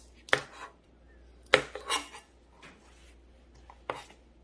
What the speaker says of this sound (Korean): 표고 한두개 정도 썰어 두겠습니다. 적당한 크기로.